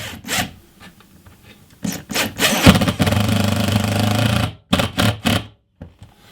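A 3-inch cabinet screw is driven into a wooden wall cleat for a floating shelf, with a loud sustained whir from about 2.7 to 4.5 seconds and shorter bursts before and after.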